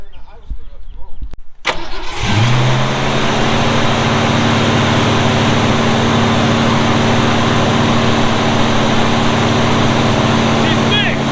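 Project car engine cranking and catching after an idle screw adjustment, then settling into a loud, steady, slightly high idle that runs on unbroken, with a brief voice before it fires.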